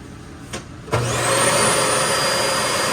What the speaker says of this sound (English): you flip this button here and your vacuum turns on